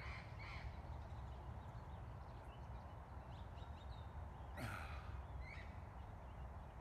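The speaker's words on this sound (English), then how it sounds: "Sure, there's a whole lot of parrots." A flock of wild parrots calling at Whittier Narrows in southern California: a few harsh, scattered squawks sound from a distance over a faint, steady outdoor hum.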